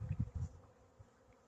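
Honey bees buzz faintly during a hive inspection in extreme heat, a low hum with a few closer bursts in the first half second before settling into a soft background drone.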